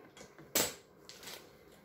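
Velveeta cheese package being cut open in a kitchen while making mac and cheese, one sharp crinkly slice of plastic packaging followed by softer rustling, close and fairly quiet with no talking.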